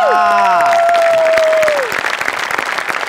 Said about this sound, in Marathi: राहून टाळ्या वाजवल्या पाहिजे